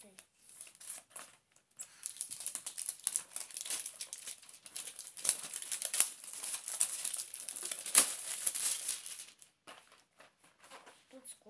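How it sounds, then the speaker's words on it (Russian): Plastic wrapping and tape on a parcel from AliExpress crinkle and rustle as it is unpacked by hand, close and steady, with brief pauses at the start and end and some quiet talk. "Давайте же это распакуем."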